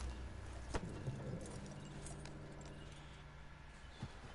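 Horse hooves in the video game Red Dead Redemption 2 clip-clop at a slow, uneven pace over a steady low background hum, fairly soft and a little distant.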